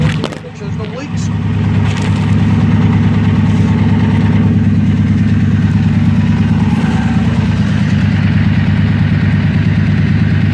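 A 2002 Ford F150 engine idling just after a fuel pump and fuel tank replacement, starting up then holding a steady low rumbling idle close by, with someone talking over it.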